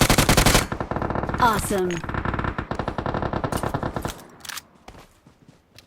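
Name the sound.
gunfire in the video game PUBG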